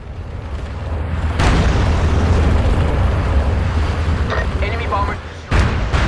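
Battle explosions from the online war shooter MAG, a dense, continuous rumbling wash of distant blasts and artillery with two sharper, louder booms standing out near the start and end, and faint voices partly buried in the din.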